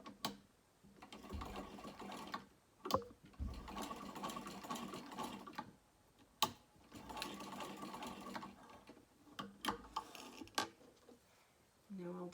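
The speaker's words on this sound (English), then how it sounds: "I'm going to sew across the bottom now just to baste them in place" A sewing machine stitches across the bottom of folded D-ring tabs to baste them onto a small crossbody bag, running in several bursts of steady mechanical whirring broken by short pauses and clicks, close and fairly quiet.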